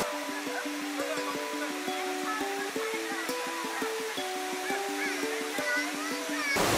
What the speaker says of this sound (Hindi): यहाँ पर वाटरफॉल से हम काफ़ी नज़दीक हैं।